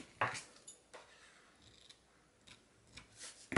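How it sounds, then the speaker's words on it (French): Scissors snipping through lace for a handmade scrapbooking card, a few faint, sharp clicks and cuts spaced irregularly over quiet room tone, with a louder snip at the start and end. "Et je vais venir couper."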